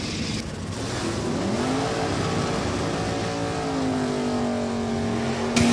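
Drag-race launch of a 1994 Chevrolet Caprice P-Stock automatic against an 1983 Camaro H-Stock automatic at New England Dragway, engines holding a loud sustained roar, one pitch rising as a car pulls away.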